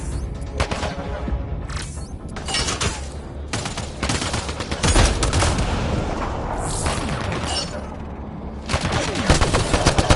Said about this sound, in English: Enemy fire! Careful! Take cover!